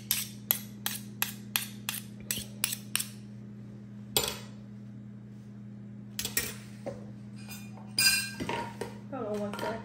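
A metal spoon clinks sharply against dishes in a quick run of bright taps, then strikes again more sparsely, close and clear over a low steady hum.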